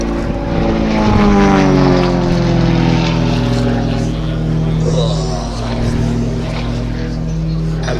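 A propeller aerobatic plane from an air show team performs manoeuvres at Little Gransden, its loud engine droning and shifting in pitch as it climbs and turns, with a voice commenting over it.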